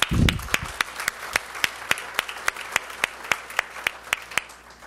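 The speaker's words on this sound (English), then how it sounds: "Let's give them all a round of applause." Audience applause for event sponsors at a workforce development breakfast, starting as a loud burst of clapping that quickly thins to a few scattered, evenly spaced claps.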